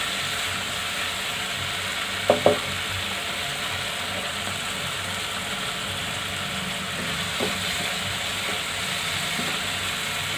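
Boiled green peas frying in a pan while making spiced paneer keema, a steady sizzle running throughout with a couple of brief clinks or scrapes near the start.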